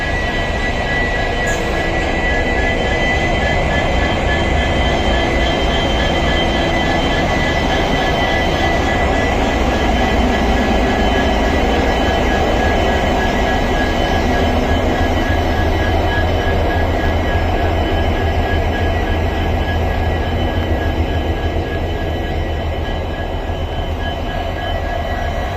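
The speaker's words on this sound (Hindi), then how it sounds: "और इस इंजन को लेके आया है BGKT का WDP 4D" A WDP 4D diesel locomotive, number 40596 from the BGKT shed, hauls a train past at Bikaner railway station, a loud continuous rumble of engine and rolling wheels sustained throughout with no talk.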